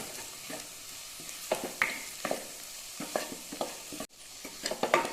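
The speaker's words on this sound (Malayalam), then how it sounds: "ഇനി ചേർത്തിയിട്ട് അതിൻ്റെ ആ ഒരു പച്ച മണമൊന്ന് പോണ വരെ നന്നായിട്ടൊന്ന് വഴറ്റി കൊടുക്കുക" Chilli powder and masala spices sauté in a pan for egg butter masala, with a soft steady sizzle under repeated scraping stirs of a spoon and a brief pause near the end.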